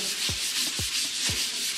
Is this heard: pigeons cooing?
no